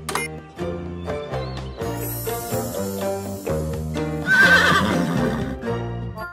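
A cartoon horse whinnies midway through a children's cartoon song, a bright rising neigh riding on top of cheerful, steady background music.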